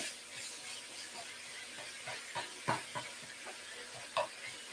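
Ingredients cooking together in a sizable wok pan, a soft steady sizzle and hiss with intermittent light stirring clicks and scrapes, fairly quiet and close, with no voices.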